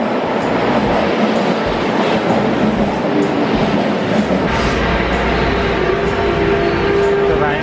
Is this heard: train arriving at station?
yes